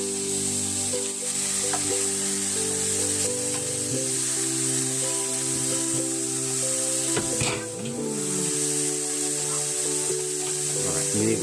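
Aromatics sizzle steadily in hot olive oil in a pan for clam chowder, a continuous loud frying hiss with a brief stir or shift partway through and no talking.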